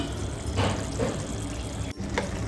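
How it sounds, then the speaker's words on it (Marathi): A steady rush of water pours into a pan of cooking chicken, with a few brief louder splashes and a short break near the end. "आता आपण ह्याच्यामध्ये पाणी टाकूया"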